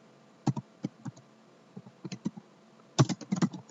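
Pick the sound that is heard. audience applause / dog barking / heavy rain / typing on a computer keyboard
typing on a computer keyboard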